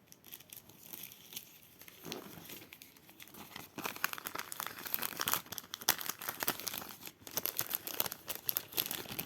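A plastic bag crinkles and rustles steadily while handmade earrings are packed, close and continuous with crisp crackling that grows busier and louder toward the end, no talking.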